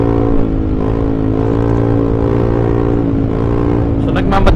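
A motorcycle's loud exhaust drones steadily and close while riding at about 60 km/h, a constant heavy engine tone filling the whole stretch.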